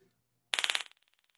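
Police taser fired once, a sharp sudden burst of rapid crackling clicks that quickly fades into a trail of faint evenly spaced ticks.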